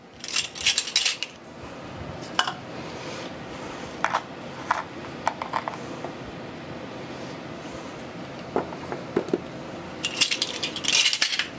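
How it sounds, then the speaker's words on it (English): A metal spoon clinks and scrapes against a bowl while stirring baking powder and salt into flour, with irregular sharp taps and bursts of clatter over a soft scraping background. "I'm just gonna kinda mix that together a little bit"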